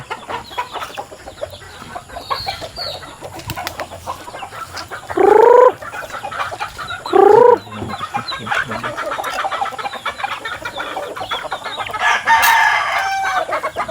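In a provincial backyard farm with pigs, a rooster crows twice in close, loud calls, and chickens cluck steadily around it.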